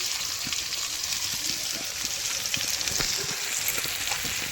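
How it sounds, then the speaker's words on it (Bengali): Chopped onion and bay leaves sizzle in hot oil in a wok, a continuous close frying hiss with small crackling pops throughout. "এবার কড়াইতে তেজপাতা দুটো দিয়ে দিলাম দিয়ে পেঁয়াজটা কুচনো করা দিয়ে দিলাম"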